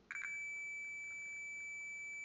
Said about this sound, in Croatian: Evo ga, instrument pišti, znači osigurač je ispravan.